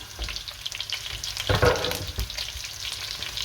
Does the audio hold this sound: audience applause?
no